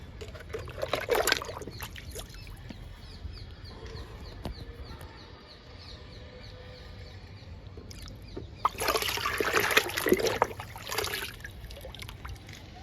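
Liquid fertilizer poured onto vegetable plants such as green chilli in a garden, heard as soft trickling and splashing in two bursts, with quiet outdoor background and faint chicken clucks.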